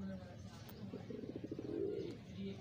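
Pigeons in a loft give soft, rolling coos, a close, low burbling run of pulses that swells and fades, with someone talking quietly nearby.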